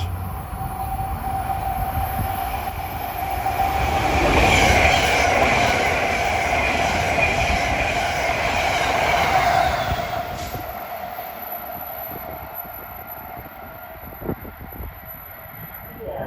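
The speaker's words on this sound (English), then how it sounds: "approaching now from Washington is train 148, en route from Washington to Springfield, Mass." A train rolls past on the Northeast Corridor at Linden station in New Jersey, a loud steady rumble and rush with a sustained horn-like tone, swelling in the middle and then fading into quieter ambience.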